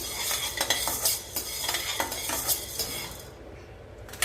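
Moong dal and black pepper are dry roasted in a pan over low heat, and a spoon scrapes and stirs in quick repeated strokes with a light crackle.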